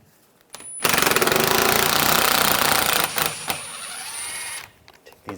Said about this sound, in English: I'm using a 10mm socket.